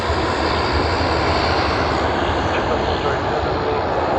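Engines of a Malaysia Airlines airliner at Sydney Airport roar in a loud, steady broadband rush with deep rumble, continuous from start to finish.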